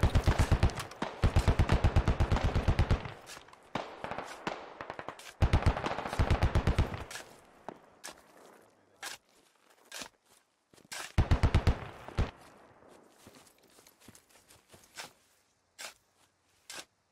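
Bursts of automatic rifle fire in the military shooter Squad, loud close volleys in three main clusters separated by quieter single shots and scattered distant reports, with no talking.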